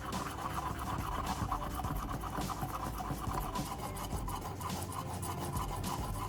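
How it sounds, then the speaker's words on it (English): Metal battery casings are sanded by hand with a continuous, even scratchy rasp, close and moderately quiet, running steadily for several seconds with small changes in stroke and no talk. "I'll repeat this process for all 4 of the battery casings, ensuring they are all evenly sanded and free from any remaining coating."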